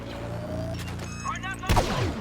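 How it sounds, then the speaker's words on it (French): A pulse cannon fires in the Star Wars Battlefront multiplayer game on PS4, a sharp blast punching through a steady engine-like hum, with a burst of electronic sweeps just before it. "Ouh, le no-scope au canon à impulsion."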